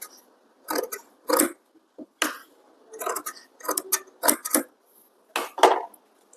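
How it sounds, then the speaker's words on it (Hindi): Scissors cutting away excess blouse fabric during princess-cut blouse tailoring, a series of short, crisp snips in separate bursts, fairly close and quiet with pauses between them, no talking. "एक्स्ट्रा कपड़ा है उसको काट देंगे।"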